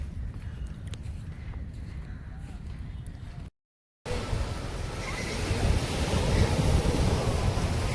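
Sea waves wash onto the beach at Miramar, a continuous low surf rumble and wind-blown hiss that drops out briefly, then returns louder and fuller, with no talk heard.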